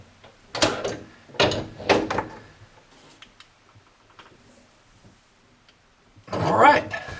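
Channel-lock pliers tighten a gas cooktop fitting, giving a few close metallic ratcheting clicks and grinding turns separated by quieter pauses.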